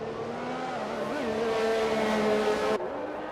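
Race cars in a sim racing game, Brazil round, with a close engine whining and shifting pitch over a dense field of other cars, a sharp gear change cutting the tone near the end.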